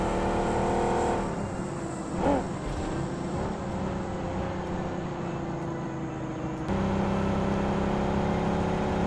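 A car is driven around in the video game Free Fire, its engine a steady, fairly close whirring drone that rises and shifts in pitch, with no voices over it.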